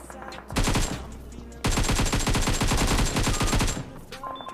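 Automatic gunfire in the PUBG Mobile battle royale game, fight at Pochinki: two loud sustained bursts of rapid shots, a short one near the start and a longer volley lasting about two seconds, with brief quiet gaps.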